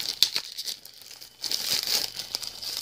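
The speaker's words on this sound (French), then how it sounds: "là, on est en train de tout déballer" Packaging crinkles and rustles as a box from a treasure-and-dragon-gold themed set is unwrapped, close and continuous with a brief lull midway.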